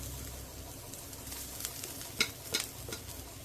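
Coconut, onion and garlic cloves roasting in a pan for a Konkan-style black-eyed bean gravy, a soft low sizzle with a few light utensil scrapes and clicks near the end, no voices.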